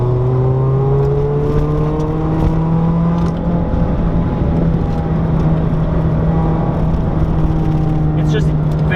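A Mazda Miata sports car engine hums steadily while driving on a mountain road, its pitch rising and falling slightly with throttle, loud and close from inside the cabin.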